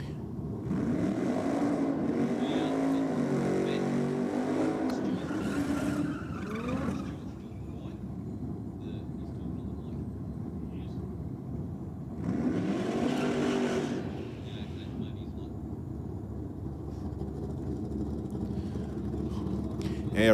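Cars drag racing at Sydney Dragway, including an RX-7 against a ute: two loud bursts of roaring, revving engines tearing past, separated by a lull, with a commentator talking over much of it.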